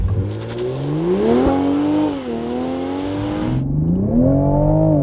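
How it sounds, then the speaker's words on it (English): A Toyota sports car accelerating at full throttle on a 0 to 100 run, engine rising in pitch through gears with clear shift dips, loud and close inside the cabin, no talking. "So all I'm gonna do is just load it up a little bit and then just slam the throttle down."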